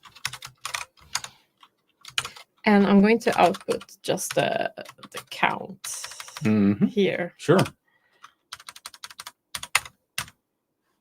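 A computer keyboard clatters in irregular bursts of quick keystrokes during a live C# coding session, while a person talks intermittently over and between the typing.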